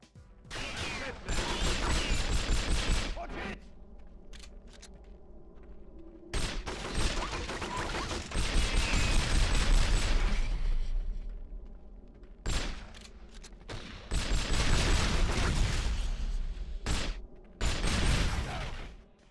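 Third-person shooter combat in the 007 From Russia With Love video game: dense bursts of gunfire and blasts in long loud volleys, broken by brief lulls, with no speech.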